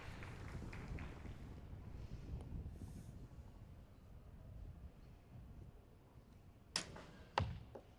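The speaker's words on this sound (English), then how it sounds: "Hear that wind on the mics." Wind buffets the microphones at an outdoor archery field during a compound men's World Cup final, a low steady rumble broken near the end by two sharp close impacts that sound like arrows striking.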